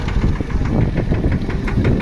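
A mini tractor engine runs nearby on a farm with a steady, rapid knocking chug, loud and continuous.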